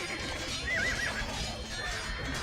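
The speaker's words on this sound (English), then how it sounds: "They all neighed at the same time." Several horses whinny at once in Age of Empires II, a burst of overlapping wavering neighs mid-clip over steady game ambience and faint hoof clatter, with no one talking.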